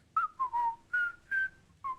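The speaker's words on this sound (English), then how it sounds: "And she's like whistling a little bit." Someone whistles a short tune of about six clear notes, a few rising and falling, close and alone with no talking.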